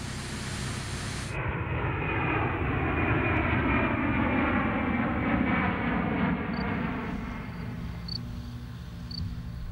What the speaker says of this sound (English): the European prototype is shipped on board a giant Airbus Beluga cargo plane